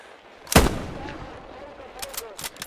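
One sharp, heavy gunshot booms nearby in the video game Hell Let Loose, followed by a lingering rumble and a few fainter, distant pops of gunfire.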